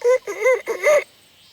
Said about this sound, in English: the red jungle fowl sings crows at a higher pitch